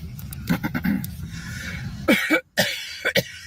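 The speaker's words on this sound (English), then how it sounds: "Just thought I should clear my throat." A person coughs and clears their throat several times, close by, in rough bursts with short pauses between them.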